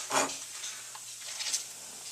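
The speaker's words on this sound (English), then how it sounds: "We can hear the bacon starting to sizzle." Faint, steady crackling hiss of bacon frying in a pan, with a few soft stirring or scraping sounds nearby.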